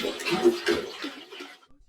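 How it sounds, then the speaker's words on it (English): A full bucket of water pours into a glass tank for rust removal, filling around a rusty machete blade: a splashing, gurgling rush in short surges that tapers off and stops, with no talk. "a full bucket of water is poured into the tank, so the blade is fully submerged"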